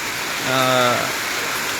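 Heavy rain falls on the town of Bhum as a steady, broad hiss throughout, with a brief humming tonal sound rising and fading around the middle.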